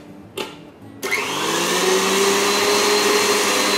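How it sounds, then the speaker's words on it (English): An electric stand mixer whisks Italian meringue buttercream in a bowl, starting after a couple of brief bumps and then running as a steady, loud whirring drone close by, with no talking. "And I'm going to whisk it just a little bit longer."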